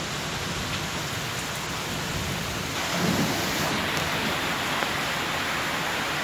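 Heavy rainstorm pours down steadily on a house near a flooding garage, a dense, even roar of rain with a slight swell of low rumble midway, continuous and loud throughout with no talking.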